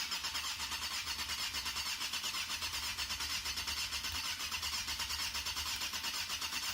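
1997 Yamaha FZR 600 motorcycle engine on full choke after a carburetor rebuild, cranking or catching with a steady fast pulsing churn, fairly faint and unchanging throughout.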